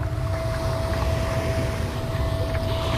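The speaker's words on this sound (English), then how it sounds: "Paging the self-driving boat." The self-driving boat in Vacation Simulator comes in with a loud, steady motor drone and a rush of water and wind that stay even and close throughout, with no talk.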